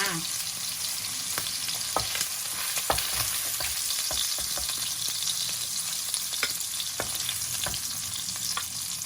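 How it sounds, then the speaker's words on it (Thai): Shrimp stir-fry in a wok, a steady close sizzle broken by repeated scrapes and clacks of a spatula tossing them. "จะผัดกุ้งให้สุกก่อนค่ะพี่น้องค่ะ"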